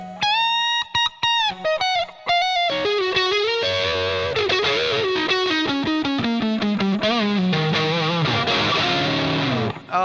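Fender Stratocaster electric guitar with distortion and effects, a run of single notes and bends flowing into thick, continuous chords and lead lines, loud, close and uninterrupted.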